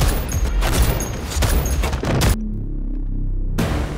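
A rapid burst of gunfire and booming impacts in a police action film shootout crackles loudly for about two seconds, then drops to a low rumbling hum before the blasts return.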